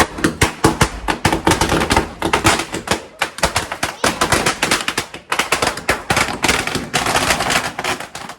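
Strings of firecrackers burst during Diwali in India, a loud, dense, rapid crackling that runs in long rattling volleys with only brief pauses between them.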